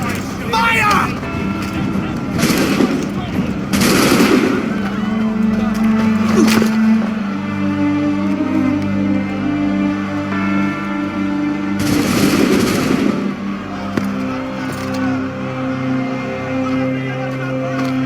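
A gunfire volley in Assassin's Creed 3: several loud, sharp bursts of massed shots, some spaced seconds apart, over a continuous background of voices and ambient game sound.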